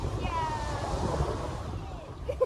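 Surf washes onto a beach in a steady, close roar, mixed with wind buffeting the microphone, while voices talk over it.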